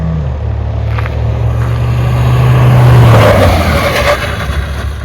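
Mahindra Thar Roxx SUV with manual drive accelerating hard at full throttle toward about 80 km/h, a loud, close engine drone that swells in pitch and volume over several seconds, steady wind and road noise underneath, no talking.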